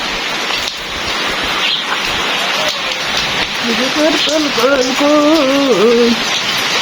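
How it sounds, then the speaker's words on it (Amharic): Steady rain patters and hisses on a surface, and a voice sings or calls out in rising, wavering tones during the second half. "ዝናብ ሲጥል"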